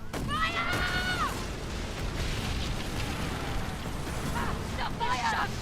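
Ship cannons boom in Skull and Bones, a steady rumble of heavy blasts and bursts throughout, with voices shouting over the barrage at the start and end.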